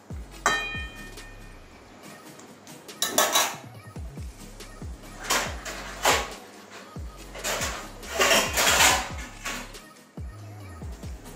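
A plate set over a pot of jackfruit curry with katla fish head, giving repeated close metallic clanks, clinks and rattles in uneven bursts, with no talk.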